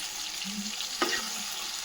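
Tomatoes cook in a pan with a close, steady sizzle, interrupted once by a brief metallic clink near the middle.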